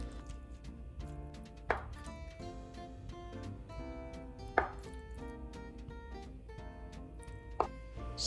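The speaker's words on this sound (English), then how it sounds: "Preparation starting with cutting tofu into a bite-sized cube." A knife cuts tofu into bite-sized cubes: three sharp, isolated chops spaced a few seconds apart, heard close over continuous background music.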